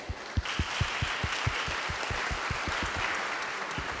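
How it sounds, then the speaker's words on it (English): An audience at a police community safety meeting claps for two honored officers. The applause is a dense, steady patter of many hands, with a few sharper close claps standing out. "Let's give them a round of applause."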